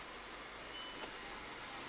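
A 2008 VW Tiguan TSI 2.0 facelift AWD's parking sensor beeps faintly in reverse gear, a soft tone sitting under steady low engine and cabin noise.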